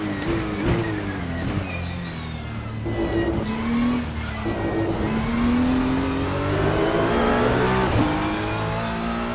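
A Ferrari GT3 race car in the Assetto Corsa racing game pulls hard in sixth gear, its engine note loud and continuous, rising and dipping in pitch through a corner with a faint tire squeal.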